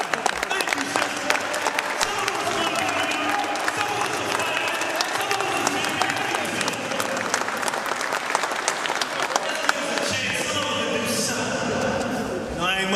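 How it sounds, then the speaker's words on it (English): Sustained, dense applause from an audience clapping for a woman standing at the back of a hall, loud and continuous for many seconds before tapering into scattered claps. "Brothers, stand up and look that sister in the face and clap for her."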